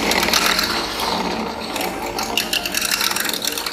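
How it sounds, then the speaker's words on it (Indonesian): Electric hand mixer whirring continuously as it stirs a homemade organic soap mixture of oils and lye, a steady buzzing drone with rattling texture, close and fairly loud throughout. "Lalu kita aduk menggunakan hand mixer."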